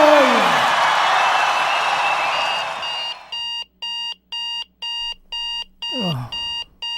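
An alarm clock goes off in a regular string of loud, close electronic beeps after a stretch of noisy background, and a short voice sound cuts in near the end.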